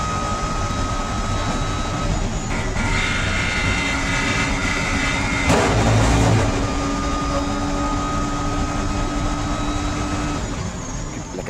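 A steady, loud Aston Martin race car engine drones through a race among many cars, with a brief louder rush of another car passing close midway.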